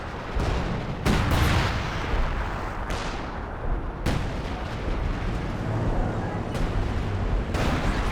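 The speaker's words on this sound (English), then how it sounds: "zeroing artillery coming in" An artillery barrage in Company of Heroes 2 pounds away: loud, heavy booming blasts arrive one after another, each with a long rumbling tail that fills the whole stretch with dense, continuous battle noise.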